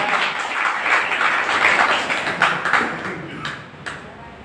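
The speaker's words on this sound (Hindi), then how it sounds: "एक बार उनके लिए जबरदस्त ताली होनी चाहिए।" An audience at a business presentation bursts into loud, sustained applause, dense clapping that slowly thins toward the end with a few scattered final claps.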